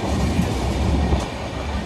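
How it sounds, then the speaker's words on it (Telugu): A train pulling away on a trip toward Araku Valley, with a steady low rumble and rail noise filling the short stretch, close and continuous, no talk over it. "ట్రైన్ స్టార్ట్ అయింది మనకి."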